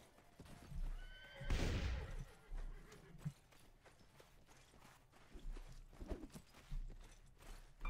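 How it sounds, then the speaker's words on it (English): In the Mount and Blade video game, a horse gives a sharp, loud neigh during battle, and hooves clop irregularly around it in a faint, busy combat scene. "Yep, kill the enemy horses."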